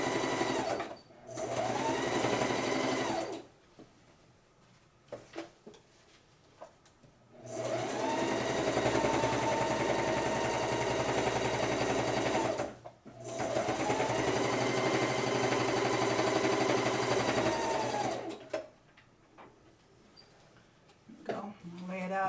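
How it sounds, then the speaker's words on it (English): A sewing machine stitches a canoe-style fabric stocking in several long bursts of rapid, even whirring and clatter, each lasting a few seconds, separated by pauses with small handling noises. "I'm going to sew as close as I can to the back of the stocking and the front."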